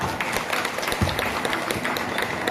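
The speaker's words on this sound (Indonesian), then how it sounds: "Tepuk tangan dong, luar biasa." An audience at an Indonesian parenting seminar claps, a dense, even patter of applause lasting a couple of seconds with no speech over it.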